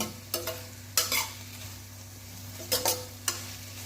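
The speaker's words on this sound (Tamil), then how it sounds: "தக்காளி கொஞ்சம் வதங்கட்டும், ஒரு 3 நிமிஷத்துக்கு நல்லா வதக்குவோமே." Tomatoes sautéing in a pan for vegetable sambar: a low sizzle under a handful of sharp, close spatula scrapes coming in short bursts, with no talking.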